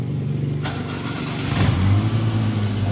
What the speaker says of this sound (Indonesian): Oke, kita starter dulu.